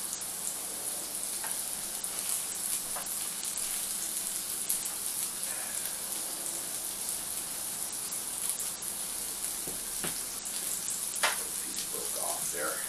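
Chicken pieces return to a hot pan and sizzle in their drippings, a faint, steady frying hiss with a few soft clicks and bumps of handling.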